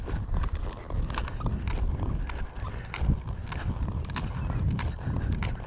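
A ridden mule lopes over the ground, giving a muffled, rhythmic drumming of hooves with a low rumble and some creak of tack, close and steady, with no talk.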